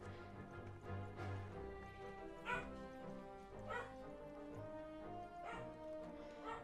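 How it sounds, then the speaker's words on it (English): A dog yips and whimpers in the background at intervals, faint and distant beneath game music and a person talking. "Sorry for the dog barking in the background."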